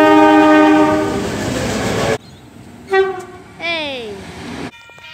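A train rumbles past, then short horn toots sound, one sliding down in pitch, over steady track noise.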